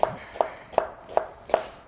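A knife chops onion on a board with five crisp, evenly spaced strikes at close range, with no talking.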